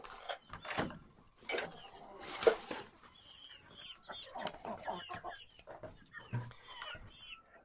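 Hens and a few roosters cluck and murmur inside an enclosed coop, with scattered squawks and soft chattering calls overlapping at moderate volume.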